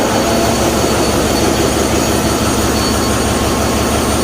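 A ship's engine room as the main engine lube oil pump starts remotely, with a loud, dense, unbroken machinery roar filling the space at a constant level throughout.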